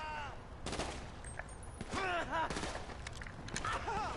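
Gunfire in GTA V, heard as a few loud cracking bursts that land close together, including a quick double burst. Voices talk between the shots.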